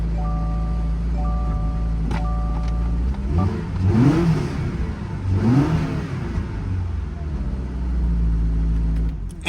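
A custom 1940 Ford Deluxe engine idles steadily, then revs up twice in quick rising surges before settling back to idle. The engine is close and loud, and there is no talk over it.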